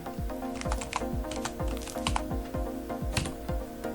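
Typing on a computer keyboard while entering data into a Microsoft Excel sheet: rapid, close key clicks in quick irregular bursts over a faint steady hum.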